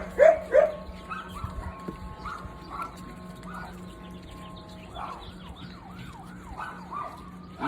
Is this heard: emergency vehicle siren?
yes